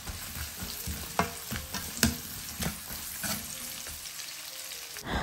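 Sliced onions and garlic sizzle steadily in a pan while a spoon scrapes and stirs through them in irregular clinks and scrapes, close and moderately loud, with no talking.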